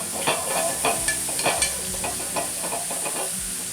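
Mushrooms sizzle and caramelize in a stainless steel pan, a steady close hiss broken by repeated scraping and clattering bursts as they are stirred and tossed.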